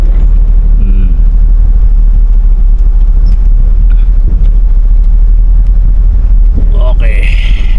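Car driving along a road, a steady low engine and road rumble with wind noise on the microphone, with occasional faint voices and a brief higher noise near the end.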